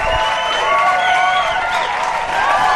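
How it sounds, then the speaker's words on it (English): A studio audience applauds at a birthday celebration on a radio show, with sustained clapping and cheering mixed with tonal voices and whoops, loud and continuous throughout. "They're still clapping for you, the audience."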